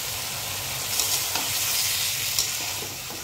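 Vegetables go into a spice masala frying in a pan for a rohu fish curry, raising a loud, steady sizzle and hiss with a few sharp stirring knocks, heard close up and without speech.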